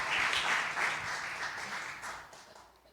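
A church congregation breaks into applause during a worship service, a few seconds of moderate clapping with bursts that gradually thin out and fade.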